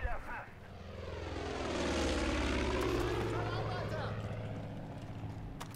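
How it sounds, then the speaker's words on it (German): Propeller airplane in Far Cry 5 drones past, its engine tone swelling to a peak and then sweeping downward in pitch as it passes and fades, a clear flyby over low game ambience. "Flugzeug!"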